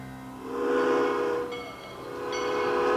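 A steam train on the Los Angeles-Salt Lake City Railroad rolls into an Ontario town, sounding a loud, sustained horn blast over rumbling rail noise, which swells twice across a few seconds.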